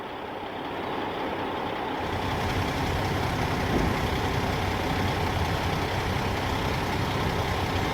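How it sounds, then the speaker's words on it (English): A heavy truck being moved, its engine running as a steady, loud, broadband rumble that grows slightly after the first couple of seconds and holds constant, with no talking. "Now the truck is moving."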